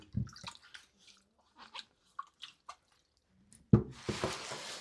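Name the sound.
rinsing garden roots under running water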